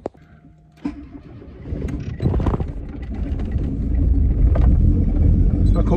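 A Ford Escort starts from cold: a click and brief starter crank, then the engine catches and settles into a loud, rough, steadily building idle nearby.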